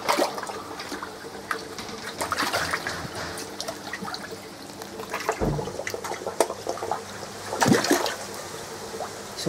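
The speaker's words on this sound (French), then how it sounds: "Quand même bruyant hein, les poissons." Fish splashing and thrashing at the surface of water, a steady wet trickling and churning with several sharper splashes standing out, fairly close and alone with no talk.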